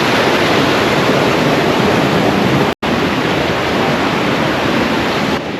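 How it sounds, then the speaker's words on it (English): Waterfalls at Plitvice Lakes in Croatia roar as a dense, steady rush of falling water close by, constant and loud with a split-second dropout midway. "But we are walking up waterfalls, Dash."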